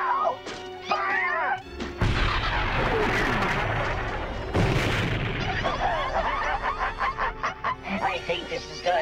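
Weapon fire in an animated Transformers episode: loud, booming blasts and crashing impacts fill the scene after a brief lead-in of sharp sounds, then fade into scattered clatter.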